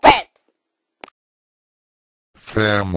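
One sharp, short sneeze, then a couple of seconds of near silence before someone starts speaking.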